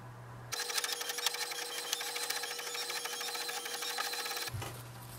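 An HP Envy Pro 6430 inkjet printer prints a welcome page, giving a steady mechanical whirring and clicking feed noise that starts abruptly, runs about four seconds, then stops.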